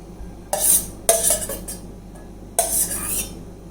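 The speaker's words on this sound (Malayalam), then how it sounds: "ഇനി നമുക്കിത് നല്ലോണം ഒന്ന് ഇളക്കി കൊടുക്കാം" A spoon stirring soaked china grass into avocado pudding mixture in a bowl, three short scraping, clinking strokes, close and distinct against a quiet background.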